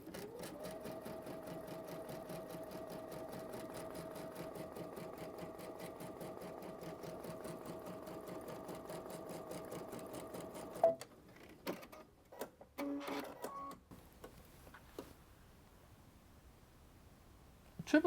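A Brother sewing machine fitted with a MuVit foot stitches serpentine patterns in a steady, fast mechanical whir for about eleven seconds, then stops, leaving a few scattered clicks and handling knocks.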